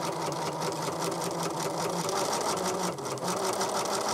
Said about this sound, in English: you'll just start stitching at 1/4 inch seam allowance